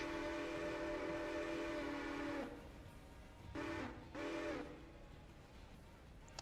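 A long, steady steam locomotive whistle from the video game Railroader blows, stops, then sounds again in two shorter blasts, loud and close.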